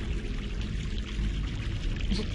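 Water pours continuously in a steady, close, splashing stream with no talking, in the video game The Longest Journey.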